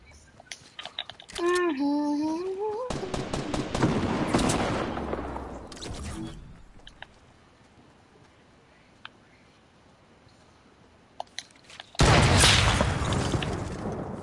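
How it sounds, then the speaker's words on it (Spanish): Gunfire in the Fortnite video game: sharp shots and short bursts go off intermittently, with loud stretches and quieter gaps, and a voice talks over parts of it. "Escucho un disparo."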